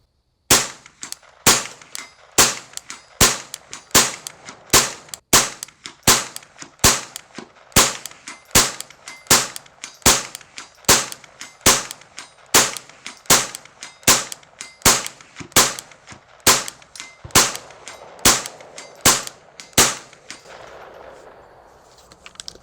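A plinking rifle fires Thunderbolt rounds at a target, roughly twenty-five sharp, loud cracks at a steady pace about one every three quarters of a second, each followed by a brief ringing tail, ending in quiet rustling.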